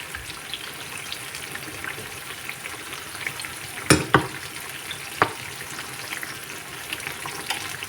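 Jackfruit bora pitha fry in oil over medium heat, a steady close bubbling sizzle punctuated by a few sharp clinks and scrapes of a utensil, with no voices.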